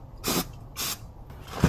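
Cleaner is sprayed onto a BMW X5/X6 performance air filter in two short, close hissing bursts, with a faint bump at the end.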